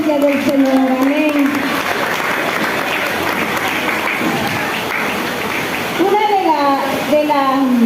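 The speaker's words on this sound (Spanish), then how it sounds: "Aplauda la presencia del Señor" A church congregation bursts into sustained applause, a dense wash of many hands clapping, with a preacher's voice heard over it at the start and again as the clapping fades.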